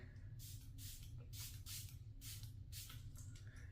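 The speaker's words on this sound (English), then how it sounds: "I will only be using setting spray and nothing else, not the powder" Makeup setting spray goes off in several short, breathy hissing bursts, about four or five spaced pumps close to the microphone over a low background hum.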